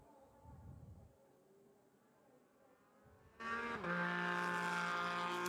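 A Porsche GT race car on track at Motegi during qualifying, faint engine drone at first, then a sudden loud, harmonically rich roar as it sweeps close by.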